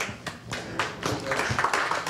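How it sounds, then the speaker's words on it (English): Audience clapping at a live talk event, close, uneven claps that build from scattered hands into fuller applause over a couple of seconds. "Hey, a big round of applause for both Toms, please"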